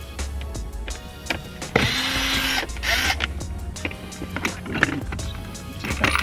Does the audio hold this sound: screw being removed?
yes